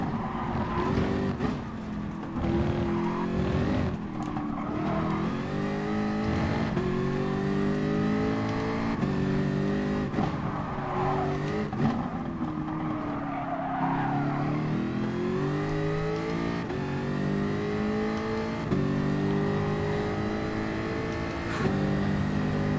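A race car engine in the GT Sport racing game revs hard under full throttle, its tone climbing and dropping through gear changes across a long, loud, continuous stretch with no talk.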